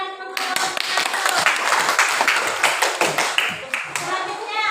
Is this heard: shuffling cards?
no